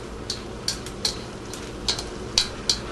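Chopsticks stirring beef in a wok as it fries give light, irregular clicks and scrapes over a steady sizzle, close and fairly quiet, with no talk.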